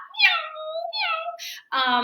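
A person imitates a cat's meow during a dog photoshoot, making several drawn-out, close, clearly voiced mewing cries in a row.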